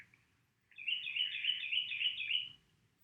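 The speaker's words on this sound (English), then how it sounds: "And that's goodbye from the bird." A small bird gives one continuous burst of quick, high chirps lasting about two seconds, close and fairly clear against a quiet background.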